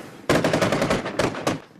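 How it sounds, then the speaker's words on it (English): Rapid bursts of automatic gunfire crack through the streets of Kirkuk, Iraq, during a militant attack, with two loud volleys of close-spaced shots separated by a brief pause. "Gunfire erupted on the streets of the Iraqi city of Kirkuk after ISIS militants launched a surprise attack."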